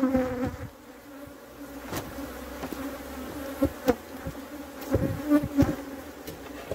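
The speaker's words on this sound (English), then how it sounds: "So now these bees want to behave a little angry." Angry Africanized honey bees buzzing around an opened hive, a dense continuous swarm drone with individual bees zipping close by at a moderate level.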